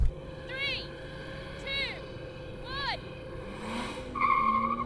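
BMW M5 cars launch in a drag race, with engines rising in pitch in a few quick bursts as they shift through the gears, followed by a longer rev and tyre noise. A voice is faintly heard over the cars.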